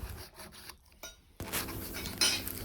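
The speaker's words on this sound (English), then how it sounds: "So right now I'm filing the nails." A nail file rasps back and forth across the nails of a mannequin practice hand being shaped to a stiletto point, with quiet rubbing at first and then a steadier, louder scraping stretch close up.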